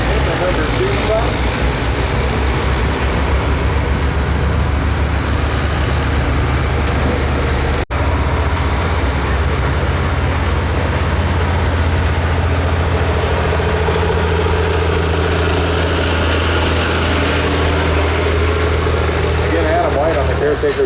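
Super stock diesel truck at a truck pull in Osceola, Iowa, under full throttle; a loud, continuous heavy engine roar with a deep droning rumble dominates throughout, alongside arena announcer talk.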